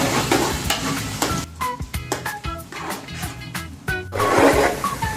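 Onions fry in oil until brown for beef korma, a loud close sizzle with stirring and scraping that dips briefly in the middle before building again.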